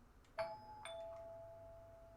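Doorbell chime in an audiobook scene, two clear ding-dong tones in quick succession, the second ringing out and fading slowly, quiet and alone.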